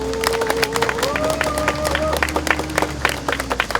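Applause and cheering from a crowd at a Friday-night street rally in Yeouido, sharp scattered claps mixed with whistles and shouts, loud and close, with voices rising over it.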